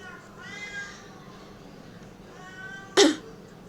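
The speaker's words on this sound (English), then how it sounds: "the cat is screaming." While someone paints miniatures at home, a cat lets out two drawn-out, wailing meows a couple of seconds apart over a low background hum, followed by a sharp knock.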